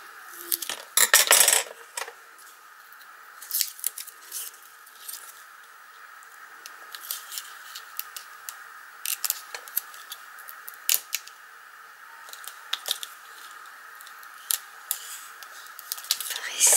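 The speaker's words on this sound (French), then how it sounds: "Et je vais en couper donc ici." Scissors snip through paper during card making, giving a scattered series of short, crisp cuts with quiet pauses between them, close to the microphone. A faint steady background hum runs underneath.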